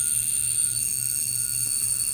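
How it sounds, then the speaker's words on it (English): Mechanical alarm of a wristwatch ringing, a steady high-pitched buzzing ring that is loud and close and continues without a break for the whole moment, alone with no voices. "Now that's an alarm that's gonna wake you up."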